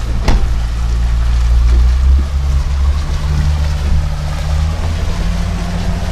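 A Nimbus Weekender 9 motorboat cruising at 5 knots, its engine holding a low, steady hum with a faint water wash over it, close and continuous, and no talk.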